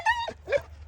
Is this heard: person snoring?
no